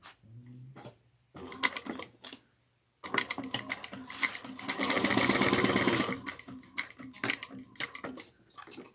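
A sewing machine stitches a bucket bag seam in several bursts, with short stop-start runs, one longer sustained stretch, and clicking handling noises between them, close by and moderately quiet.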